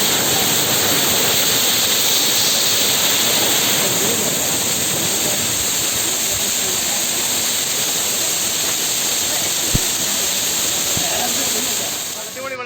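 Waterfall among rocks, a loud, steady, close rush of falling water with unbroken broadband roar, fading slightly at the end.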